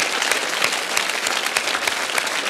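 A studio audience at a Russian-language comedy show applauds, a dense, even patter of many hands clapping with scattered sharper claps standing out, steady throughout.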